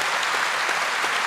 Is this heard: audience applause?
yes